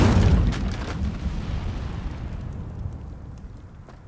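Incendio fire spell cast in Hogwarts Legacy, a loud, close whooshing burst of flame that quickly fades into a dull, rumbling roar.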